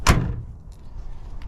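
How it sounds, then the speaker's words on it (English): A single solid thump as the door of a 1965 Chevrolet Impala SS with a cherry interior shuts close by, followed by faint rattles and quiet background. "Door is shut nicely."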